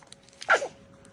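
One quick, sharp sneeze bursts out close by in a quiet room, lasting barely a fraction of a second against a faint background.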